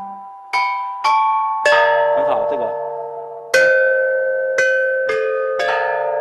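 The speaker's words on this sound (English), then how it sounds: "the chime bells could still produce beautiful and accurate musical tones" Ancient bronze chime bells of Marquis Yi struck one by one, ringing out about eight loud, clear metallic tones with long sustaining decays, close and alone.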